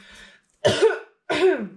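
Two throaty coughs in quick succession after a brief breathy sound, close and fairly loud.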